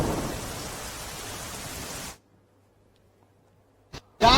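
A dense hiss of heavy downpour in the Dolvan and Mahuva areas of south Gujarat plays for about two seconds, then cuts to near-silence, with a brief click and a short return of rain at the end.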